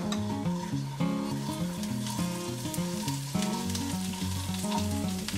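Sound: kale leaves sautéing in pan with garlic

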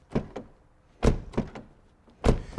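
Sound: car door closing

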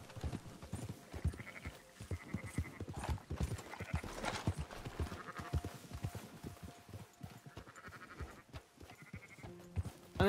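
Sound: sheep bleating in a video game

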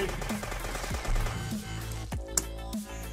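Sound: gunfire in the video game Dead Bits

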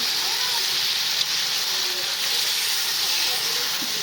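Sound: rice being fried for bhuna khichuri

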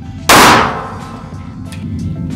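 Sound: Nighthawk Custom pistol firing hollow point round

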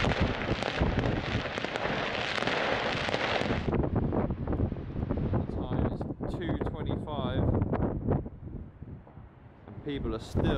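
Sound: fireworks going off in every direction

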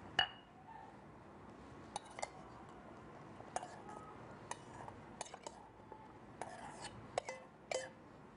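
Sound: pounding garlic in a mortar

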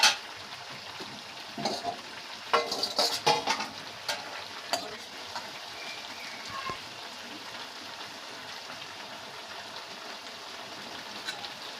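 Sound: spiced vegetable curry cooking in a pan

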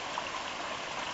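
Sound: natural spring feeding Honey Creek, flowing water

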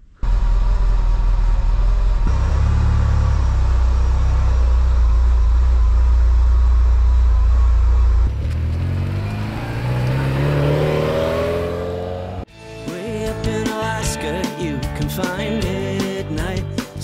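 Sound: Ferrari 308 engine while driving on road trip

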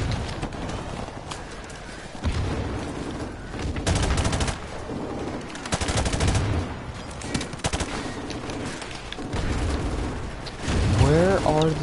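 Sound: gunfire in the video game Call of Duty 4 Remastered

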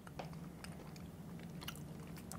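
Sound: crunching Marabou milk chocolate with sea salt

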